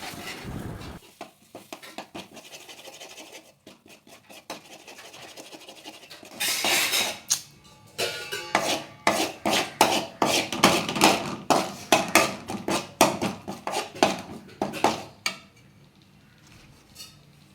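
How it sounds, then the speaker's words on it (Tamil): A spoon stirs ground masala powder in a metal cooking pan for mushroom biryani. Soft scraping builds into a steady run of loud, rapid clinks and scrapes close by, with no talking. "அடி பிடிக்காமல் நல்லா கிளறி விடுங்க."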